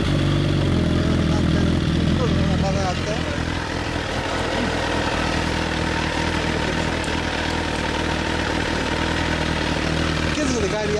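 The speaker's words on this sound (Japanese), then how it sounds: "OK、 エンジン音聞かせてもらえるかな。" A 2015 Suzuki GSX-R1000 L5 sportbike fitted with an LCI titanium exhaust idles steadily close by, a constant throbbing rumble that barely changes, with people talking over it.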